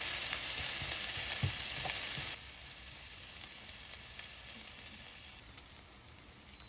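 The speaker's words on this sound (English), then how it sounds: "while we're stirring the onion and we wanted to get it nice and soft and nice golden color" Onion frying in a pan gives off a steady, close hiss and crackle, with a few stirring scrapes early on before the sizzle settles to a quieter, even level.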